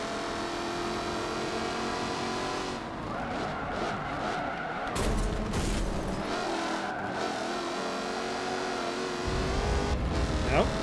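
A race car in Forza Motorsport 7 roars as it accelerates, engine revving and climbing through gears alongside other cars, with tire squeal and skidding. The sound stays loud and continuous throughout, and someone talks over parts of it.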